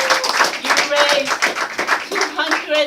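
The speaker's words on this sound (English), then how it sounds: "I want you to applaud yourselves first." A crowd at a political gathering applauds itself with brisk, lively clapping mixed with voiced cheers and shouts, loud and close throughout the short burst.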